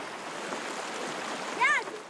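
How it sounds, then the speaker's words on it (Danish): Rushing river water makes a constant soft hiss and roar, with a brief bird-like chirp near the end and no clear talk. "Vandet bruser."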